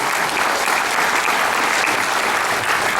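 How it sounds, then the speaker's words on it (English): An audience at a San Diego Comic-Con 2018 panel claps in steady, dense applause, loud and continuous throughout. "You can applaud."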